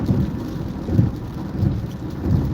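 Heavy rain and rolling thunder from a storm over an I-94 highway commute fill the air with a steady, loud low rumble and dense patter, swelling in a few soft booms.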